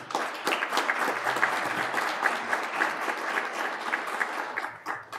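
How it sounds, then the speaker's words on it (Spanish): An audience at a museum book presentation on archaeology claps steadily, a fairly faint and distant patter of many hands that holds throughout and thins near the end. "Un aplauso, por favor."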